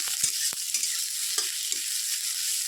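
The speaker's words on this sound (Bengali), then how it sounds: "পেঁয়াজটা একটু ভালো করে ভাজালে" Onion fries in a pan with a steady, soft, crackling sizzle, broken by a few sharp scrapes and clinks as a utensil stirs the pieces.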